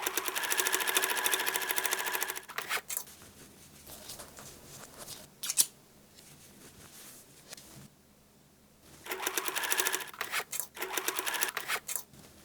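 A sewing machine stitches the facing to the lining of a shoulder bag made from old jeans, running in two loud, steady whirring bursts at the start and end, with a quieter stretch of light handling noises in between.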